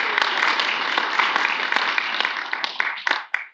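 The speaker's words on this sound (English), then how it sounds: "Why don't we give him a round of applause for this photo?" A room full of people applauds, dense clapping that holds steady and then tapers off with a few final claps.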